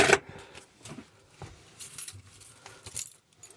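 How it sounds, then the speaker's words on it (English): Several Ford car keys jangling as they are pulled from a pocket, a loud close burst of metallic rattling at the start followed by softer, intermittent clinks and shuffling. "Let's see if I've got the right keys in my pocket."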